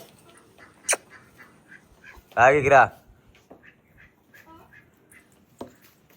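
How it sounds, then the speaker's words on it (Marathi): A single loud, nasal honking call rings out briefly amid quiet outdoor background, with soft speech murmuring around it. "ही बदक कोणचं आहे?"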